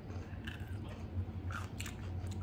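Close-up biting and chewing of a crunchy pineapple-flavored pickle, several crisp crunches and wet squishy chews spread across a couple of seconds over a faint low room hum, with no talking.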